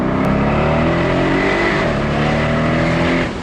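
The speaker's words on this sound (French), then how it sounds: "même si le moteur est turbo compressé, il chante comme un Atmo, il crépite" Turbocharged 2016 Mercedes SL 63 AMG engine revving hard and loud, a continuous throaty roar with crackles, heard close and alone, easing off slightly at the end.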